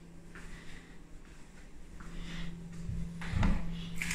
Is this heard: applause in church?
no